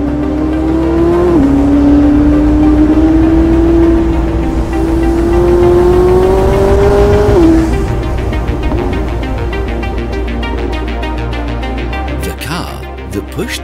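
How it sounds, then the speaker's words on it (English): A McLaren P1's powerful twin-turbo V8 engine drones and revs at high pitch, rising in steps before dropping off, with a voice talking over it, loud and close. "a twin-turbocharged V8 engine, producing 666 horsepower"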